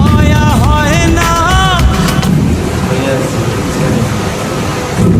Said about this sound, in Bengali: ঝড় তুফান আসলো বন্ধুরা।